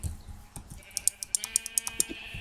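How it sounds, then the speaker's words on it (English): Sheep bleating in Minecraft, a quick run of short repeated game bleats with tonal chirps, close and clear over faint background. "Kill ourselves some sheep here."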